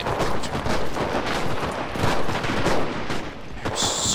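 Relentless gunfire from a WW2 battle in the video game Enlisted, overlapping rifle and machine-gun bursts crackling densely and loudly from start to finish.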